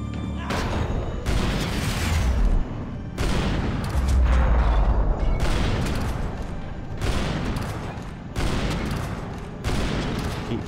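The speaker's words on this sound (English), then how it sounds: "firing that shotgun and not left in my clip now" Heavy booming shots from a shotgun in the video game Max Payne 3 ring out repeatedly, loud and close, every second or two in a dense, continuous battle mix with no voices heard.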